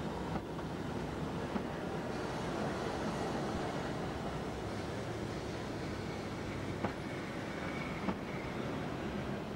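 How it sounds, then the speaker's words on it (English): Steady low rumble of a stopping steam passenger train rolling into a small rural station in the last days of steam, with faint rail clicks, a slight squeal and no voices, at moderate distance. "A stopping passenger train pulls into a small rural station."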